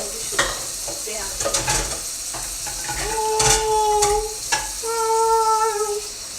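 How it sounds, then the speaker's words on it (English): Dishes and a plate clattering in a full kitchen sink, with scattered sharp knocks and clinks, a couple of ringing plate tones, and a running hiss, close and fairly loud. "Oh, nearly dropped a plate onto the ground."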